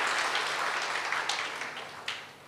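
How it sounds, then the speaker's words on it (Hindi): Audience applause at a Ramkatha religious discourse in Lakshmi Mandir, Kolkata: a dense, steady patter of many hands clapping together, fairly close, tapering slightly toward the end with no speech over it. "मैंने ताली बजाने को नहीं कहा"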